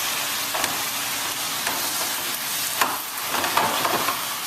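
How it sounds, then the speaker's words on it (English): A leg of lamb sears in a hot pan, giving off a steady, close hiss and sizzle throughout, with a few faint crackles and pops rising above the constant frying. "start searing that lamb over. Searing the lamb nicely"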